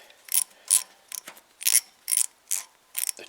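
Ratcheting clicks from a wrench removing the lip bolt that holds the trim on a Drolet wood stove, a series of short bursts in an uneven rhythm, close and moderately loud with no talk.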